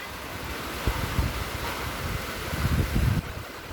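Wind gusts across the microphone outdoors as a steady, rushing roar with low buffeting thumps that swell toward the end. No one speaks.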